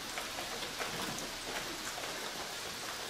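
Heavy rain falling outdoors, a faint, steady hiss of drops on surfaces with scattered patters throughout, no voices.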